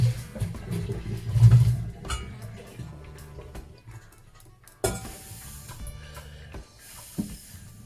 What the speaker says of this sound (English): Then we're going to drain our potatoes.